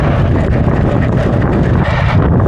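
Steady, loud rumbling wind buffeting the microphone, a dense low roar that continues throughout without any clear voices.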